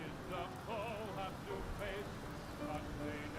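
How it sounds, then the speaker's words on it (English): Rain falling in the submarine game UBOAT during a thunderstorm, a dense steady patter drumming on surfaces near a ship, continuous and fairly loud, with faint tonal sounds running through it. "You can hear the rain. As I get closer to the ship, the rain gets louder."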